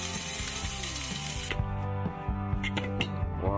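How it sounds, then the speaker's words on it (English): An electric grinder shreds 3D printer filament with a steady whirring drone and a string of sharp clattering ticks and knocks as pieces break up, close and continuous. "put the filament inside the grinder, switch on the grinder"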